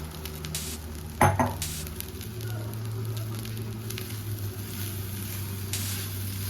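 Rice fried in ghee sizzles steadily in a pan while a spoon stirs through it, with one sharp clack of utensil on metal early on and continuous close frying hiss throughout.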